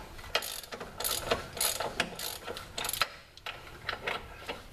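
A hand ratchet clicks as it tightens a bolt during truck reassembly, in close, quick bursts of ratcheting strokes with short pauses between them.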